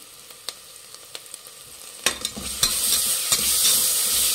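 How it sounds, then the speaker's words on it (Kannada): Ginger garlic paste hits a hot pan for kushka. A few light taps come first, then a bright sizzle swells and keeps going under close stirring scrapes. "ಇದು ಹಸಿ ವಾಸನೆ ಹೋಗೋವರೆಗೂ ಚೆನ್ನಾಗಿ ಫ್ರೈ ಮಾಡಬೇಕು."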